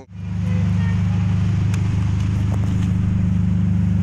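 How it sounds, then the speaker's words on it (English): Mufflers on a custom, lowered 2016 Kia Optima with a rear wing, a loud deep exhaust rumble that holds steady and close, with a fast low pulsing throb. "You hear the mufflers."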